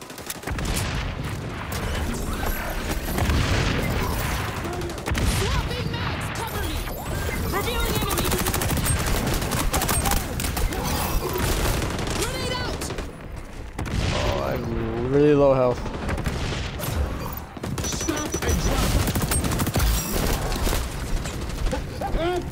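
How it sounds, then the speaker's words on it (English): Sustained gunfire in the video game XDefiant, with dense volleys and rapid shots running throughout over busy game sound, while a player talks at times. "He's fucking shooting at me, bro."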